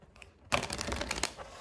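A deck of tarot cards being shuffled close up, a dense burst of riffling and slapping card noise that starts abruptly and continues steadily, with no talking.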